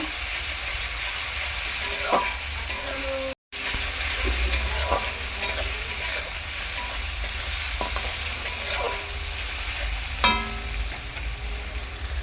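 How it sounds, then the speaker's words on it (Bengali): Ginger-garlic paste fries and is stirred in a pan for a fish curry with rohu, potato and tomato, a steady loud sizzle and hiss with occasional light utensil clinks, briefly cut off once. "আদা রসুন পেস্ট দিয়ে এরকমভাবে নাড়াচাড়া করে নেব"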